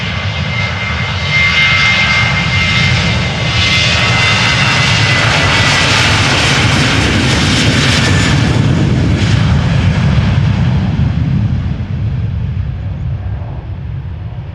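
A jet airliner departs from a runway at Amsterdam Schiphol Airport, its engines producing a loud, sustained roar that swells and then slowly fades.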